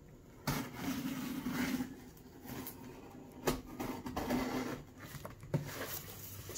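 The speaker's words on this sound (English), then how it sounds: "my blade doesn't go deep into the box. Once I do that, I could do the same thing on the edges" A knife blade slices along the edges of a cardboard box in a faint, scratchy, rasping drag, with a few sharper ticks and scuffs as the box is handled.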